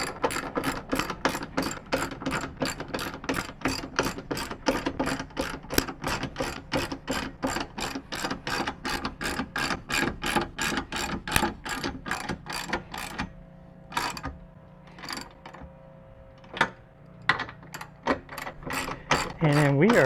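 A ratchet cranks down bolts while installing an offroad ladder on a vehicle's back hatch: a long run of rapid, evenly spaced clicking strokes, close and crisp, then slower intermittent clicks and pauses toward the end.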